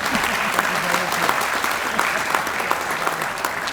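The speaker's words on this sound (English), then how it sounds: "You can applaud him." Steady audience applause at a Leominster High School Athletic Hall of Fame induction ceremony, dense continuous clapping filling the hall throughout, loud and even with no break.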